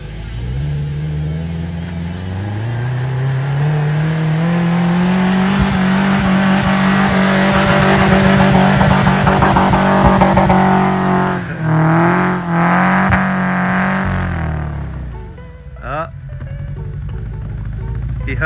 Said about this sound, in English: He held the rev limiter too long and it went into limp mode.